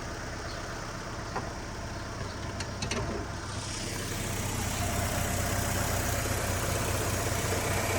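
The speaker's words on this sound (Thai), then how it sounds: "ผมปิดแอร์ก่อนจะได้ฟังเสียงเครื่องยนต์นะ" A used car with an automatic transmission idles with the air conditioning off, a steady low engine hum that grows slightly louder and fuller about halfway through, heard close and alone.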